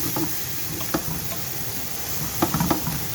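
Steady sizzling of spices frying in oil in a pan for a chicken tikka curry, with a few soft clinks and scrapes of stirring; close and continuous, no voices.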